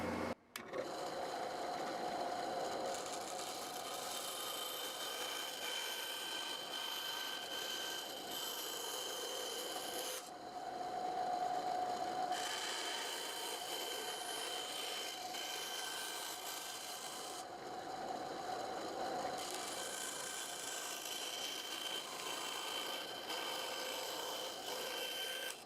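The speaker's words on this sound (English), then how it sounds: "And now I just want to cut this out on my bandsaw." A bandsaw cuts out a small maker's badge, a steady high whine with rasping blade-on-workpiece noise running continuously, shifting slightly in tone as the cut progresses, close and without speech.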